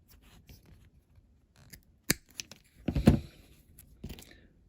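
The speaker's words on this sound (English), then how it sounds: "you need to cut the other matchstick in half." A matchstick is snipped in half with scissors while building a Corgi toy Jaguar XJ12C banger model, giving a sharp nearby snip followed by a louder crunching cut, surrounded by faint handling noise on a quiet bench.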